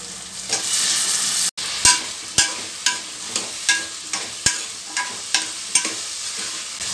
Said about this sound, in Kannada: ಈಗ ಶುಂಠಿ ಬೆಳ್ಳುಳ್ಳಿ ಪೇಸ್ಟ್ ಹಾಕ್ತೀನಿ